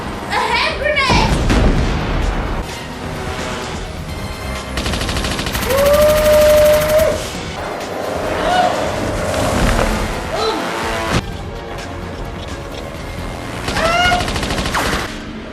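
A hand grenade blast and bursts of automatic gunfire from a James Bond action film scene, loud booms and rapid rattling shots with whooshing effects and dramatic music, while voices speak over parts of the chaos.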